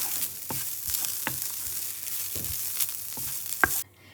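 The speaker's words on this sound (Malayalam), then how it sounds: "ഇനി നമുക്ക് ചെറുതായിട്ടൊന്ന് വറുത്തെടുക്കാം." Soft frying of grated coconut and ginger in a pan, a steady low sizzle broken by a few sharp stirring clicks and scrapes, then it cuts off near the end.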